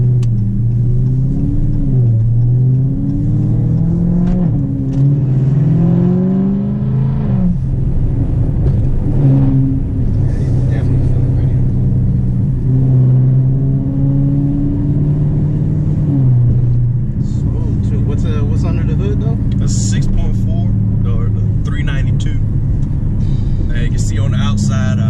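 A car engine hums and rises in a few gentle revs while people talk throughout over the steady rumble of the cabin.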